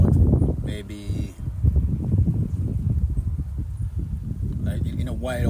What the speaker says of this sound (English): Right now it's super windy